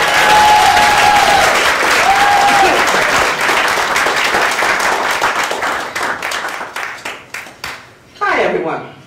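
Audience applause and clapping in a comedy club, a dense, loud wash of many hands that thins and breaks into scattered claps near the end before a voice starts speaking.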